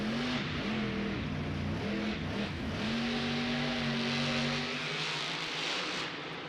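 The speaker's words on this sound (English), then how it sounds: "He ran it to the bitter end of those RPMs in order to make that jump." A monster truck's engine screams high and sustained at an Indianapolis stadium event, with pitch stepping up and down through rising revs before holding a long wailing tone and fading, loud and far with no speech.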